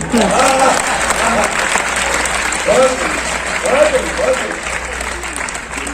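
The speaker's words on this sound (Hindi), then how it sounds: "आपने इतनी तालियां बजा दी" An audience at a Hindi satire and comic poetry recital claps in a loud, continuous round of applause, with a voice faintly audible under the clapping.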